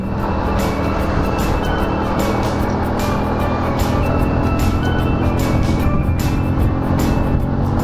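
A Yuki Retro 100 scooter engine strains uphill, a steady loud droning hum with rough buzzing that holds at constant pitch without letting up, close to the rider.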